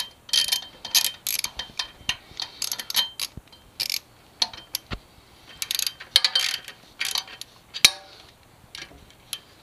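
Ratchet clicking in short, irregular bursts while tightening the exhaust header bolts on a Yamaha FZ6R motorcycle, close and crisp, with brief pauses between strokes.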